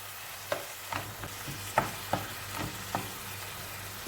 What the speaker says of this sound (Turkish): Biraz kıymamızı soğanımızla kavuralım